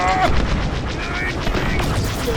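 Rapid bursts of blaster fire from an X-Wing in Star Wars Squadrons, loud and close, with a dense rattling pulse and booming impacts across a couple of seconds.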